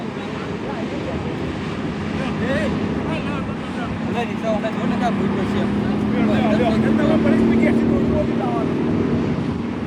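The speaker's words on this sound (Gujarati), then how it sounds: "કેટલા બધા બાઇકો છે ને" Several motorbike engines drone and rumble past, a steady, fairly loud roar that swells slightly, with voices faintly mixed in.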